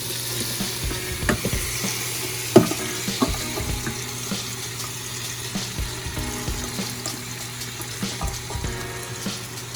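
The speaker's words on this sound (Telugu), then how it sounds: "So I'm gonna add the marinated chicken in to it." Marinated chicken dropped into hot oil in a cooking pot, sizzling and crackling steadily at close range with scattered spatters, stirring and clinks, and no talking.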